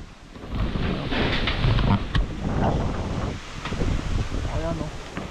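Strong typhoon wind roars in a steady, loud broadband rush with gusting swells. A voice speaks briefly beneath it.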